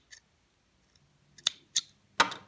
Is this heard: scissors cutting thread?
yes